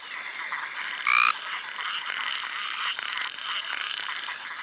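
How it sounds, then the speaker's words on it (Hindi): A chorus of thousands of male frogs croaks to call mates, a dense, continuous rattling trill with one louder, closer croak standing out near the start. "अब हजारों मेंढक बाहर आ रहे हैं और नर अपने टर्राने के कोरस से साथियों को बुला रहे हैं।"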